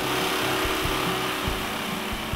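A power saw blade cuts a bevelled piece of pine wood with a steady whining hum and rhythmic low thuds of the cut, close and continuous.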